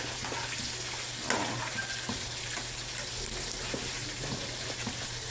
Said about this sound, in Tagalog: sa chicharon may piniprito ako tumatalsik